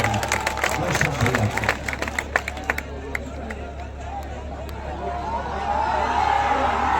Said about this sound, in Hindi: वैसे अमरीश सिंह के लिए भी पर जोरदार ताली बजाई